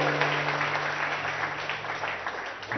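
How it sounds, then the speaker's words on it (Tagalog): Steady applause from an audience at a church feast gathering fills the few seconds, a dense, even patter of many hands clapping close by, with no voices over it. "Lahat ng naniniwala, pumalakpak,"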